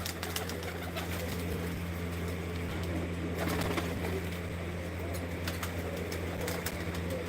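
Kept pigeons coo softly amid a low steady background hum, the faint calls recurring across several seconds with occasional wing noise.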